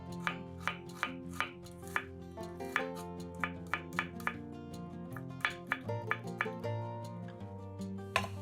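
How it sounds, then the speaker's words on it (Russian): Knife chopping an onion into small cubes on a cutting board, a quiet run of regular close taps over steady background music. "Одну луковицу нарезаем небольшими кубиками."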